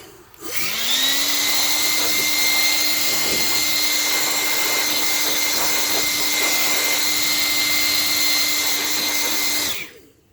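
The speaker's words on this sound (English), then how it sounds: "This is a great tool from Home Depot, Rigid, the little blower." A Ridgid handheld blower blasts air out of a Jeep Wrangler 3.8 air filter box, a loud steady whine running for about nine seconds after a quick spin-up, then cutting off.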